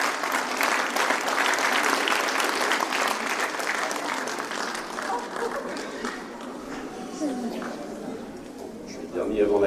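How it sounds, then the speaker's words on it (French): Applause from the audience at a New Year's greetings ceremony in Valdoie, honoring the Secretary General; dense clapping that swells at first and gradually thins out, with a few voices and bird-like coos near the end. "je vais vous demander d'applaudir Monsieur le Secrétaire Général"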